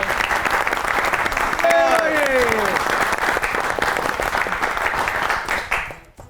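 Sustained applause from a studio audience for a singer on a Pakistani comedy and music program, dense and steady with a brief whistle or voice partway through, then cutting off at the end.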